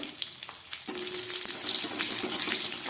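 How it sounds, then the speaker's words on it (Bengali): Two bay leaves and some green chilies drop into hot oil while Malabar spinach is being cooked. After a moment of faint clatter, a steady, loud hiss of frying rises up nearby. "দিয়ে দিচ্ছি দুটো তেজপাতা, আর দিয়ে দিচ্ছি কিছুটা কাঁচা লঙ্কা"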